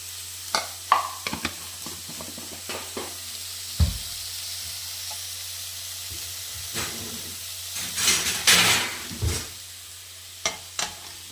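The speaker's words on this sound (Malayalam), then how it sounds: "നന്നായിട്ട് ഇളക്കി മിക്സ് ചെയ്ത് മൂടി വെക്കാം" Radish thoran sizzling and being stirred in a pan, with scraping spoon strokes and bursts of frying hiss, close and fairly loud, no voices.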